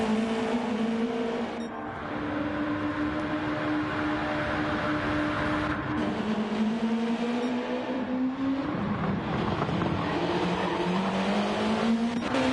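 Loud race car engines in the racing game Gran Turismo 7, at the Nürburgring 24h, roar continuously, their droning pitch rising and falling as the cars accelerate and shift, with no talking.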